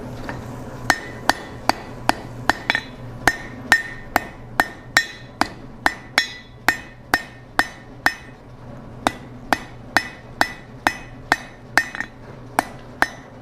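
Hammer blows ring out on hot steel at an anvil as a fire poker is drawn out to a point, about two dozen sharp metallic strikes in a fairly steady rhythm, close and alone.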